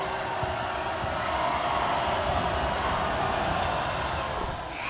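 A loud crowd fills a high school boys basketball gym during a Homestead vs Snider game, a steady roar of voices with no single cheer standing out.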